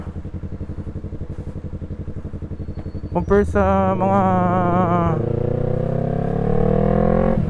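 A Kawasaki Z650 motorcycle idles with a rapid chugging pulse, then revs up sharply and holds a loud rising engine roar close by, while someone talks over it.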